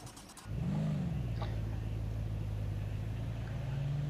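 A car pulls away as the clutch is let out and gas applied: the engine note rises, dips, then holds at a steady, loud drone and climbs slightly toward the end, close up and without talk.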